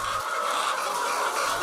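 A flock of egg-laying hens on a poultry farm, a dense continuous chorus of clucking and calls filling the space at steady volume with no talk.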